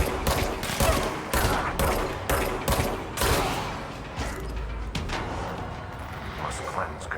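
Rapid bursts of gunfire from the video game Control, repeated sharp shots in quick succession for a few seconds, then sparser shots as the action continues.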